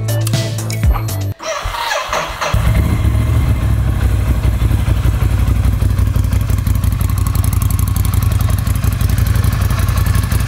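A Ducati Scrambler motorcycle engine is cranked and catches after a short stumble, then settles into a loud, close, steady idle with a rapid even throb and light mechanical clatter to the end.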